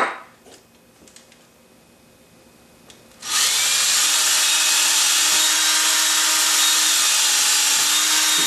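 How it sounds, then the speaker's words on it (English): After a few seconds of quiet tapping and handling, a power drill kicks in, drilling an axle hole through tough material, and runs steadily at a loud, high-pitched whine until the end. "I'll drill through it, get it started."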